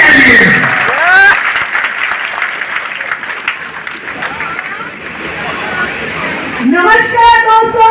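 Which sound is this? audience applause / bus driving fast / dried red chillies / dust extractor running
audience applause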